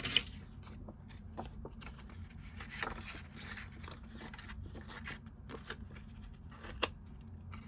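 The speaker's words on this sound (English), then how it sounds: "I'm gonna kind of trim this down just a little bit more" Scissors trim the edge of a shabby chic layered paper journal card, quiet close snips and small papery rustles in a calm room.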